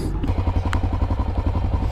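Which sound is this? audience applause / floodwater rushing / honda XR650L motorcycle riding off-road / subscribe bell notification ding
honda XR650L motorcycle riding off-road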